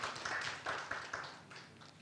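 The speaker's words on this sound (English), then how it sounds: "A round of applause for Comrade Diana." Scattered applause from a modest audience at a regional dialogue on domestic resource mobilisation in the East African Community, with a few distinct claps standing out early before the clapping thins and fades.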